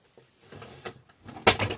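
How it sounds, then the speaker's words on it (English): A drawer slides open with a short rattling scrape and a few wooden knocks, close by and fairly loud, followed by a brighter clatter of its contents. "Find the right drawer."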